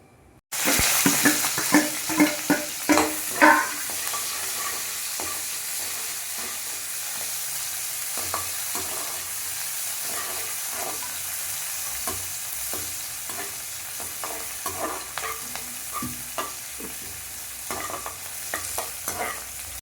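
Onion sizzles in hot oil after the spices splutter for a village-style country chicken curry, with sharp spoon scrapes at the start, then a long steady fry and repeated stirring knocks, no speech.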